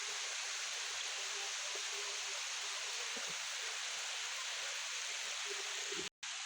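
Water runs through the small channels of Bülümbür stream near Dereova, a soft, continuous rushing hiss with no break except a momentary dropout near the end.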